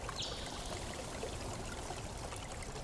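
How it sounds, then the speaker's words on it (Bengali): Washed lentil dumplings (bori) poured with their water into a cooking pot, a continuous close trickling, pouring splash lasting a few seconds, heard alone. "তারপর ধুয়ে রাখা বড়িগুলা আমি এখানে পাতিলে ঢেলে দিলাম।"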